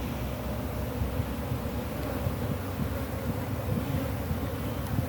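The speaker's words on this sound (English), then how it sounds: "I've got to get the bees off of this one." Honey bees buzz in a steady, dense drone as they are brushed off a honeycomb frame during a hive inspection, close and continuous with no voices.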